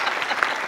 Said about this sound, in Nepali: जोरदार ताली प्रकाशको लागि